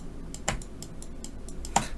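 Computer keyboard keys are pressed while working in an Excel spreadsheet, a short run of light clicks with two sharper, louder keystrokes standing out, close and clear over a quiet background.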